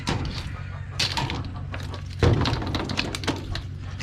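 A hen clucks in short, scattered bursts close by, with occasional knocks and rustling around it.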